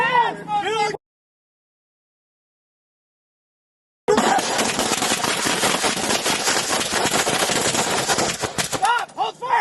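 A gunfire exchange between sheriff's deputies and an arson suspect on a lawnmower bursts out as rapid, dense volleys of loud shots after a gap of silence, with shouting voices around it.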